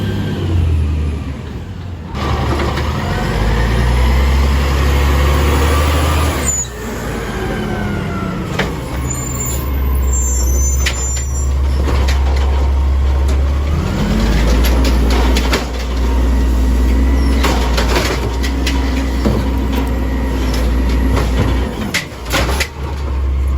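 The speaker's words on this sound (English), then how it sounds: "So yeah, you can see how valiant that truck is" A CR&R garbage truck in Tustin, Perris or Orange works its grabber arm to lift and empty bins, heavy engine drone with rising hydraulic whines, clanks and thuds repeating through a long, loud stretch.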